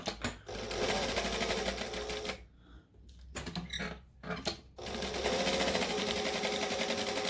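A sewing machine back stitching a seam on a pair of shorts, running in loud steady bursts with two short pauses, close up and alone.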